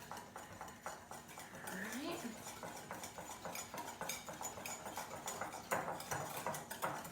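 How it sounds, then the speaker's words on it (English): Pumpkin crème brûlée mixture is stirred until smooth, with a steady run of rapid scraping and clinking strokes against a bowl, close and continuous, and a voice speaking in between. "Just gonna mix that all up together until there are no lumps."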